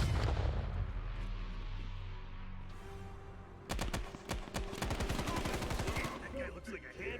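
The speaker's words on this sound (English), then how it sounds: "Grenade!" Explosions and heavy gunfire from a Black Ops Cold War campaign battle: a dense low rumble gives way to rapid, loud bursts of automatic fire, sustained and close, with faint voices underneath.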